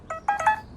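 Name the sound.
mobile phone text message notification tone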